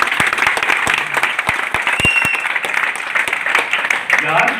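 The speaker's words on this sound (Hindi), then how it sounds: "आपने तालियां दी" An audience at a Hindi health talk on ganoderma and cordyceps applauds, a steady crowd of clapping with sharp individual claps standing out, continuing for several seconds.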